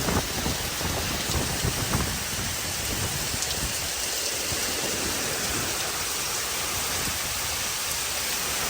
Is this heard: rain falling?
yes